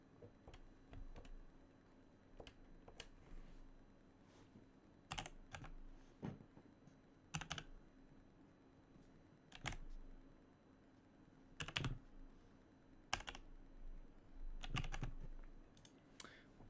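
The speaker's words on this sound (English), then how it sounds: "I'm going to type in the MAC address now" Someone types a MAC address on a computer keyboard while provisioning a Yealink T46S IP phone, with soft irregular key taps and a few sharper clacks spread across a quiet room with no talking.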